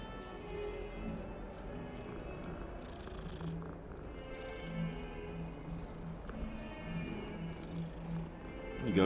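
A cat purring in the Hogwarts Legacy video game: a steady low, rumbling purr runs through the whole stretch under a soft game backdrop with faint background music.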